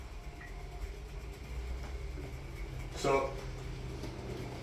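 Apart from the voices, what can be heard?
model railway train running on newly laid track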